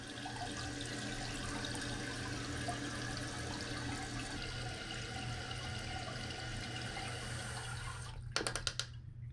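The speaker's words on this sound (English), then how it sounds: "Water filling." Water rushes steadily into the tank of a one-piece Kohler toilet under repair, a soft continuous hiss and trickle that ends with a few short clunks.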